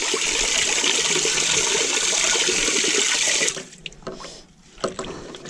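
Water rushes and splashes loudly and steadily as laundry is soaked by hand on a built-in concrete washboard, then breaks into a few separate sloshes and splats.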